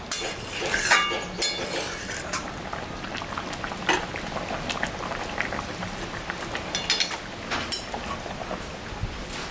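Mrigal fish curry broth with kohlrabi and potato boils in a pot, a continuous bubbling with scattered pops and a few clinks from utensils, steady and close.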